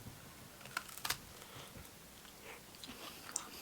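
Golden Crunch creams biscuits being bitten and chewed near the mic, a few sharp crisp crunches early on followed by quieter, irregular chewing, without speech.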